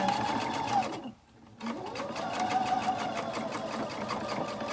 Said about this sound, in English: we're going to run back over this again because it didn't sew the first time since you didn't have a bobbin